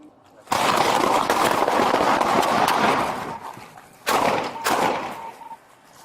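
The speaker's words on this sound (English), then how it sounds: "shots fired." Several sharp gunshots ring out close by during a police traffic stop, a dense burst of cracks in the first few seconds followed by two more quick shots after a brief pause, with voices in the background.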